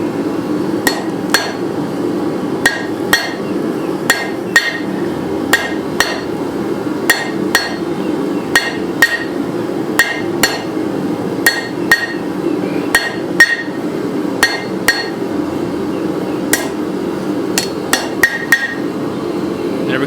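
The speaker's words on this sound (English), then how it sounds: "We'll come back and we'll hammer this down some, draw this out" Hammer blows on rebar at an anvil while forging a snake: loud, ringing metallic strikes repeat at an irregular working rhythm, roughly one or two per second, close and clear with no talking.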